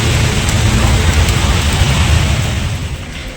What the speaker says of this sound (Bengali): জোরে বৃষ্টি এসছে